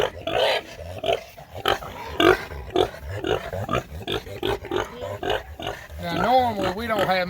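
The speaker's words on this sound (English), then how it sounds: "I don't know if you can hear me over the pig or not" A show stock pig grunts and snorts up close, loud, rough and repeated, while someone talks over it throughout; a strained, wavering squeal rises near the end.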